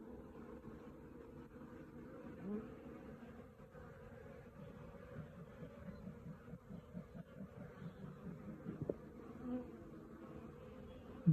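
A swarm of honey bees leaving an apiary, made up of a colony with a 2024 queen, fills the air with a continuous low buzzing drone, steady and moderately close, with individual bees flying past now and then.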